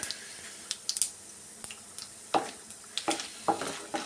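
Cashews frying in a pan for shavige bath give a faint sizzle, with scattered sharp scrapes and clicks of a spoon stirring at close range, no speech.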